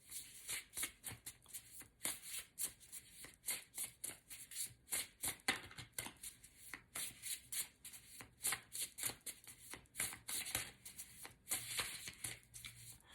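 A tarot deck is shuffled by hand in quick, repeated riffles and card slaps, a close, rhythmic flutter of crisp bursts with short pauses between.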